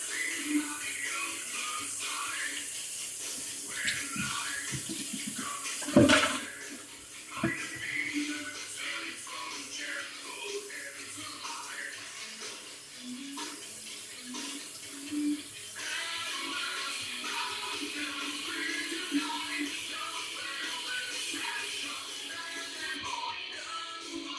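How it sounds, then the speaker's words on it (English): Hands washed under a running kitchen tap, a steady stream of water splashing into the sink with a loud clatter early on and brief shifts in the flow as the hands move. "Wash my hands off here."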